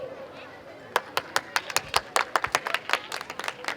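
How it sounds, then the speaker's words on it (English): Scattered clapping at a school sports day prize announcement for nursery winners, a few sharp, uneven hand claps starting after a short pause and continuing in a loose, quickening rhythm. "Give a huge round of applause for all the winners."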